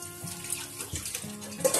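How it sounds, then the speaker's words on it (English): Running tap water while washing food in a home kitchen, a soft hiss with faint splashes and clinks of handling, fairly quiet and without talk. "So I'm just gonna wash it now."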